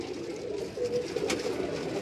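Soft throaty cooing from pigeons kept on a Karachi rooftop rises and falls in overlapping calls, near and fairly quiet, with a brief rustle partway through and no speech.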